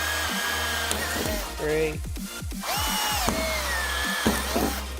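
Power drill boring a pilot hole through a GWM Cannon manual roller shutter, several short whirring bursts with pauses between them, close and fairly loud, with a voice counting alongside.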